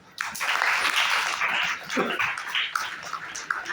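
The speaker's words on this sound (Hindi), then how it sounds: "इनके लिए तालियां बजाओ" Children in a classroom clap together for a few classmates, a dense, steady burst of applause that starts abruptly and carries on for several seconds at close range, with a voice faintly under it.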